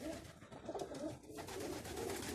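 Soft, low pigeon coos repeat over a murky, busy background, close but not loud.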